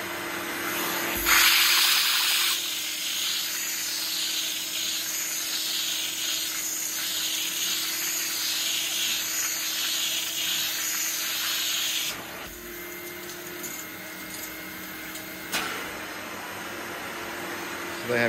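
A steam cleaning machine works over sofa upholstery, giving a steady broad hiss with a suction roar that runs continuously, briefly surging and dropping as the wand is lifted and moved, close and fairly loud.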